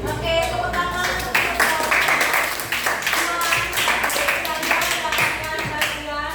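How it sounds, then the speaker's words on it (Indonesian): An audience bursts into sustained clapping throughout at the close of a classroom group presentation, a dense, steady patter of many hands, with voices faintly mixed in. "Oke, tepuk tangan untuk"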